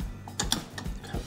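A pipe cutter works through a pipe that will form the core of a duct tape lightsaber, giving a few close, soft ratcheting clicks and metallic ticks in a short irregular series with no talking.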